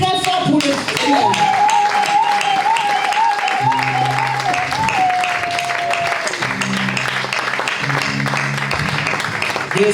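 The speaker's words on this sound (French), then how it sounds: "on acclame très fort pour le Seigneur" A church congregation in Paris applauds and cheers loudly for the Lord, a steady wash of clapping and shouting running throughout, with a sustained sung or shouted voice and instrumental tones layered over the crowd.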